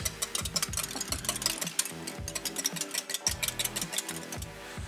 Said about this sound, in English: I whisk them together.